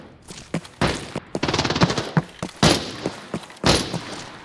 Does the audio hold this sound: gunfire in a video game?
yes